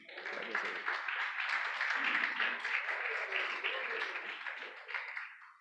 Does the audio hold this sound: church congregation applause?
yes